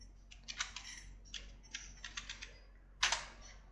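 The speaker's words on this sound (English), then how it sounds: "So I should type the password." Bursts of quiet, close clicking keystrokes on a computer keyboard as a password is entered at a Linux login prompt, several irregular clusters of taps with a final sharper flurry.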